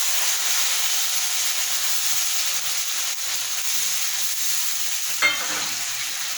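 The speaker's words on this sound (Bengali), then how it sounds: "নাড়াচাড়া করে পটলগুলো আমি ছেড়ে দেবো" Pointed gourd (potol) frying in a pan with poppy seed paste, giving a steady close sizzle with a brief scrape of stirring near the end.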